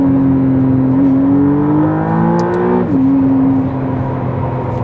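A McLaren Artura hybrid sports car engine revs loudly and steadily up close, its droning pitch climbing for a couple of seconds before dropping abruptly, then holding at a lower settled hum.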